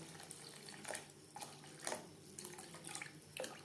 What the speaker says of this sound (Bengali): দিয়ে দেব জল।